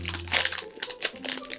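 Packaging for a Smiski mystery box figure is torn and crinkled open, with close, irregular bursts of crackling and rustling plastic and paper over faint background hum.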